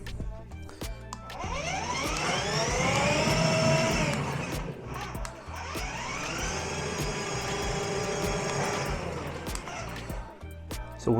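A ride-on Mazda MX5 toy car's electric motor whirs at its fastest third speed, a steady high-pitched whine with rising and falling harmonics that dips briefly midway before resuming.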